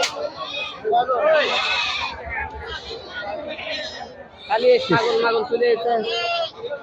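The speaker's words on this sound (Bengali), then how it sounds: "অসংখ্য ছাগল আছে। দেখেন খাসি ছাগল বড় বড় বেশ কয়েকটি ছাগল" Large castrated male goats, each over 20 kg, bleat at a crowded goat market. Several loud, close bleats rise and fall over constant human chatter and talking.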